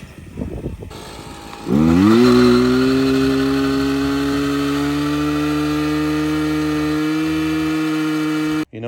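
A custom Honda Z50 mini motorcycle with a two-stroke scooter engine fitted, quiet at first, then firing up and revving hard in a loud, steady, buzzing drone held near for several seconds before cutting off.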